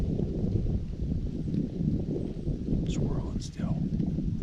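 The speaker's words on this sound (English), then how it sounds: "The wind's picked up." Outdoor wind on Virginia public land during a bowhunt gusts in a low, buffeting rumble against the microphone, steady throughout, with a few faint high chirps over it.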